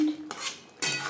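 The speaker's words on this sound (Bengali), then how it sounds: "গ্রেভির সাথে মাছ বেশ ভালো করে মিক্সড করে দেব" A spatula scrapes and clinks against a metal pan while fried bele fish is stirred into curry gravy, two bursts of scraping separated by a brief quieter pause, close and fairly loud.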